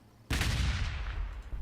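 Gunfire in Warhammer 40,000 Gladius starts as a sudden sharp blast, then a short, dense rattle of shots decays over about a second and a half.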